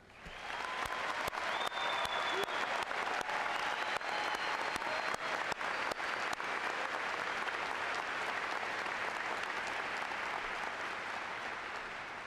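A large audience at a University of Alaska Fairbanks commencement claps steadily, filling a big hall with dense, sustained applause that eases slightly toward the end.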